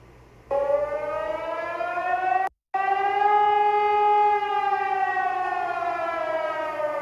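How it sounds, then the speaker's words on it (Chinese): An air raid siren wails steadily and loudly during a civil air defense drill, holding its tone with a brief cut-out before sounding again, with no voices. "警报声响起"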